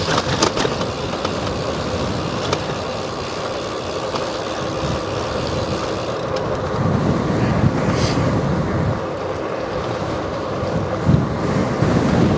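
Strong wind roaring and buffeting across the microphone while cycling on an open-road tour, a continuous loud rush with gusts swelling and easing and no talk.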